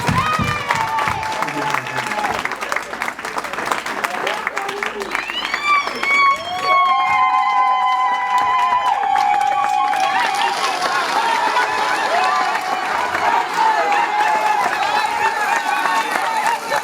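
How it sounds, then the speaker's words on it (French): Wedding guests applauding during a church ceremony, clapping and cheering mixed with music and melodic tones, with voices present throughout. "On peut applaudir."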